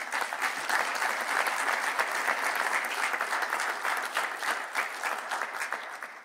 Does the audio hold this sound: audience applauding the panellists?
yes